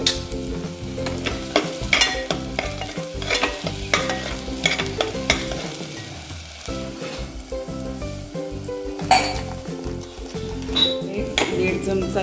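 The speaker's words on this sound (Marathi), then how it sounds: "जरा परतून घेऊया स्टेजला आपण हळद घातली" Vegetables with turmeric sauté in a pan for Malvani black pea usal, giving a steady sizzle with frequent utensil scrapes and clinks from stirring, and a voice speaking faintly at times.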